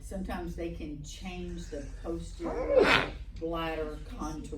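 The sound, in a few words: sneeze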